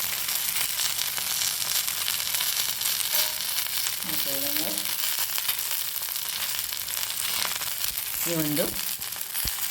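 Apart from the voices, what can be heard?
Kallur fish frying in oil in a pan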